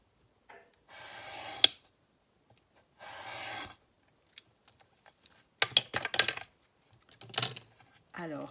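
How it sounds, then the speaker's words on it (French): Scissors cut a 1 cm strip from a small photo offcut, heard as short, close, quiet snipping and rasping strokes separated by silent gaps, with scattered light handling noises. "Dans une petite chute de photo, je vais découper une bande de 1 cm pour pouvoir venir la coller"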